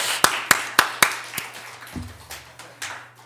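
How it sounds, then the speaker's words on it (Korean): Church congregation at a Wednesday prayer meeting claps in a steady, crisp rhythm, with several sharp evenly spaced claps followed by softer, looser ones over a low steady hum. "하나님께 영광 돌리면서 박수들"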